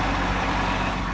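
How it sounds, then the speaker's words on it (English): A bus engine idles close by, a loud, steady low rumble that fills the moment without a break. "I don't know if y'all can hear me, but the bus is right there"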